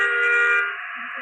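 A bus horn in Bus Simulator Indonesia blares with a loud, steady multi-tone blast for most of a second before cutting off and leaving a quieter tail.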